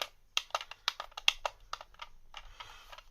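On/off switch of a Comean RB1903 1:16-scale 2.4GHz articulated RC lorry, flicked repeatedly: a quick run of crisp, close plastic clicks with small pauses, then softer handling rustle.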